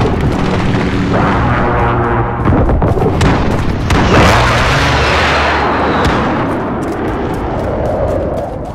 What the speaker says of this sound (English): Airstrike incoming, beware!